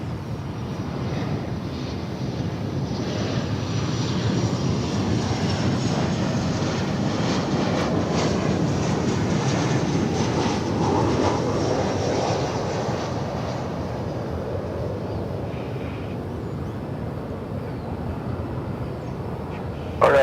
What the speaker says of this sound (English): And here comes American Airlines Flight 2788 from Colorado Springs